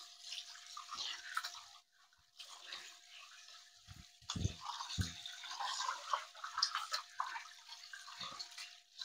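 Tap water runs and splashes while a pig intestine is rinsed under the faucet, with close wet sloshing and a few thumps and knocks against the sink.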